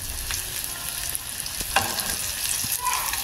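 A pork chop frying in a pan sizzles steadily, with occasional scraping stirs and light clinks close by.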